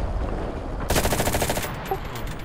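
A rapid burst of close, loud automatic gunfire from a Panther tank in a video game, lasting about a second over steady engine rumble.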